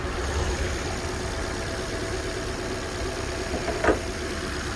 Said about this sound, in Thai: เครื่องยนต์คันนี้พันห้าร้อยซีซีนะฮะ ร้อยสิบกว่าแรงม้า เครื่องเดิมเดินนิ่ง